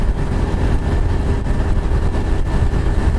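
A motorcycle engine running smoothly after a fresh oil change, a steady low rumbling drone with an even texture, close and continuous without speech.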